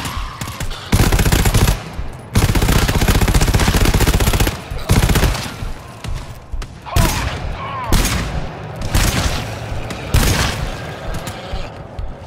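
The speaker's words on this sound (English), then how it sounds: "we're shooting" Automatic gunfire in the video game GTFO comes in loud, dense bursts of rapid shots separated by short pauses, with mechanical clicks between volleys.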